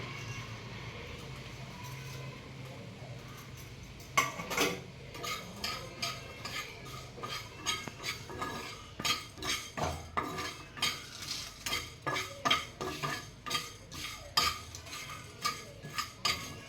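Coriander seeds and pieces of dried coconut dry-roasting in a pan, the spatula scraping and clinking against the metal in a steady rhythm from about four seconds on, close and fairly loud.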